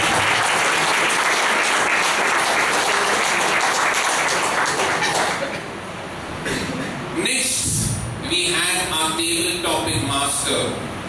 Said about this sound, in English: Give her a big round of applause along with the stage.